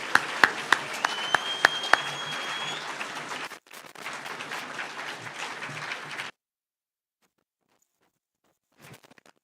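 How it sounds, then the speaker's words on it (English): Sustained audience applause fills a hall at an annual engineering convention in Mombasa, dense and steady with a few sharper claps, then cutting off into silence before faint sounds return. "with a hand clap."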